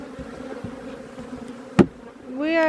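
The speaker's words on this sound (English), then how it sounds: "You can hear them buzzing and see them flying around us." Honey bees swarm around an open beehive as the lid is knocked, a steady close insect drone running throughout with a sharp knock midway and a louder rising whine near the end.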